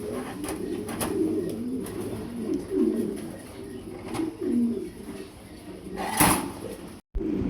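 Pigeons, including a female, coo steadily in low, throaty murmurs at a pigeon farm, a continuous close-up chorus with a sharp rustle or clatter near the end.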